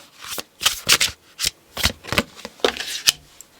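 Tarot cards shuffled up close in a string of quick, crisp riffles and flicks, about ten bursts in under four seconds with short gaps between them.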